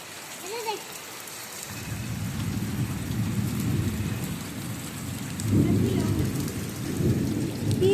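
Thunder rumbles low and heavy through a downpour, rolling in from about two seconds and swelling again near the end over the constant hiss of rain on the roof and ground.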